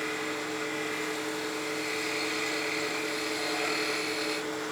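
A spindle gouge cuts a bead on a spinning wooden top held in a lathe, giving a steady, close, continuous whirring hiss with a motor hum under it and no pauses.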